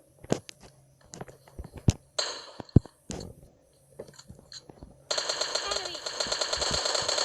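Machine gun fire in the video game PUBG Lite: scattered single shots and short bursts, then a sustained rapid burst of automatic fire toward the end, with voices talking in between.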